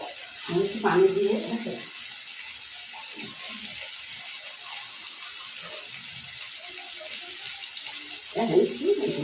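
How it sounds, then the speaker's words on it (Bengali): Water poured into a cooking pan with vegetables and spiced dried loitta fish (Bombay duck) for a bhuna: a steady, moderately loud hiss and splash throughout, with a voice talking briefly at the start and the end. "এখন একটু পানি দিয়ে দিলাম"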